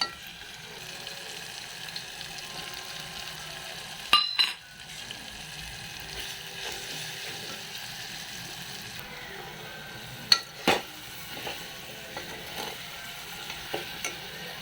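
Tomatoes frying with salt and red masala for a drumstick sambar, a soft steady sizzle broken by a few sharp clanks of a spoon stirring against the pot, close and fairly quiet, with no talking.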